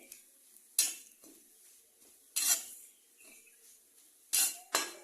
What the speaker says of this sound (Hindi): सबसे पहले हमें नारियल के बुरादे को भूनेंगे